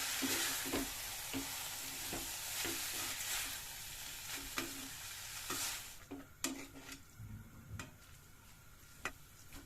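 Veg chow mein is stirred and fried in a pan, a close continuous sizzle with rhythmic scraping and tapping strokes of the spatula that grow more sparse toward the end.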